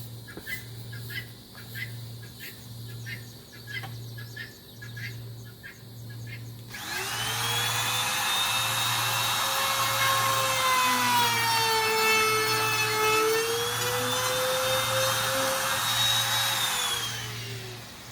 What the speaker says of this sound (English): I run a router. I route it to the jig.